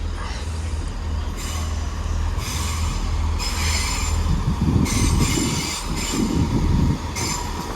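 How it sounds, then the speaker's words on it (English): A train departs Cardiff Central station in a steady, loud rumble of wheels and engine, with repeated high squeals and hissing bursts from wheels and brakes as it pulls away. "Got a train heading out here."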